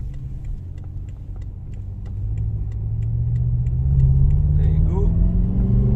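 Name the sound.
BMW M5 560 hp accelerating at full throttle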